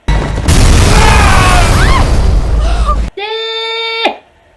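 A loud, sustained explosion of a gas can in a film roars for about three seconds, broadband and rumbling, then cuts abruptly to a bright sustained musical tone that swells and stops.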